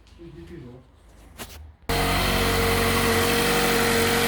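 After a bit of talk and clicks, a Mazda 6 GL's engine is started with a push button, abruptly fires and settles into a loud, steady idle that fills the rest of the clip.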